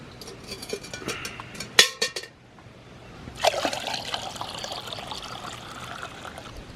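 Maple sap poured out of a bucket in a backyard, a trickling splash that breaks off after a few seconds and then resumes as a steady pour, nearby and moderately loud.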